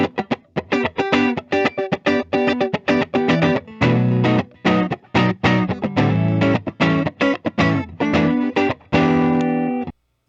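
A 1980 Gibson La Tosca double-cut electric guitar played loud and close, with quick strummed chords, short pauses between phrases, and a final chord that rings out and stops.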